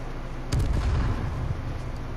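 A flashbang grenade goes off in the H1Z1 video game: a single sharp blast with a short rumbling tail, moderately distant over a quiet background.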